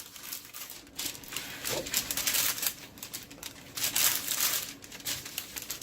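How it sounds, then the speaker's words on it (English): Close crisp snipping and crinkling of scissors cutting through paper, a series of irregular cuts with rustling between them. "just grab a scissor and cut around it"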